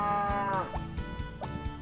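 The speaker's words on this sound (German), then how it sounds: "Definitiv ist das eine Kuh." A cow in the farming video game Harvest Moon: Back to Nature gives a long, clear, synthesized moo, followed by shorter low lowing sounds over steady game music.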